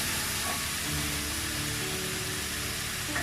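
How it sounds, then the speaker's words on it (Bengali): Spice paste frying in a pan at medium heat, a steady, dense sizzle and hiss with no pauses, close and continuous throughout, no voices. "ঢাকনা দিয়ে ঢেকে মিডিয়াম আঁচে কিছুক্ষণ মশলাটা কষিয়ে নিচ্ছি ভালো করে।"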